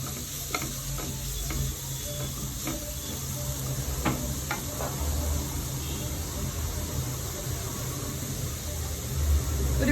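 Grated carrot sautés in a pan for carrot milk puttu, a steady soft sizzle under repeated scraping and clicking stirs from a spoon against the pan, near and moderately quiet throughout.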